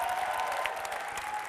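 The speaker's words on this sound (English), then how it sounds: "Big round of applause." An audience at a youth summit closing ceremony breaks into a brief burst of applause, many hands clapping in a steady, dense roar from a large hall.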